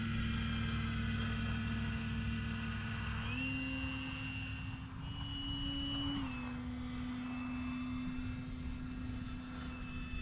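A model airplane flies with its flaps fully down, a steady droning motor whose pitch steps up and down with throttle changes, continuous and fairly close, with no talk.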